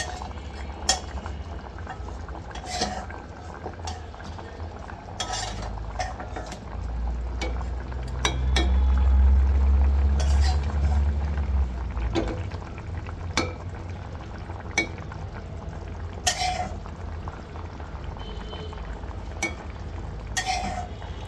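Curry of taro with small hilsa fish boiling in a pot, a steady low bubbling simmer with occasional sharp clinks of a utensil against the pan, swelling louder midway, no talking.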